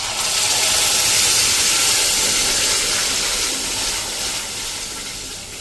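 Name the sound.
sambhar paste added to hot tempering, sizzling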